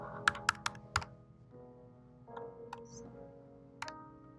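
A number entered on a computer keyboard into a clothes-matching search field: a quick run of four or five crisp key taps up close, followed by a few sparse, faint clicks over quiet room tone.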